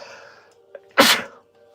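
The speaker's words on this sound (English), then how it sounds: "I always sneeze in this room" A single sharp sneeze bursts out loudly indoors in a card shop room, preceded by a faint intake of breath and a short hum.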